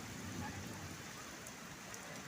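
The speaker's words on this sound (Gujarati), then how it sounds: "તમારે અહીંયા વરસાદ છે" Summer rain falls in a steady, soft, even hiss with no voices, quiet and constant throughout.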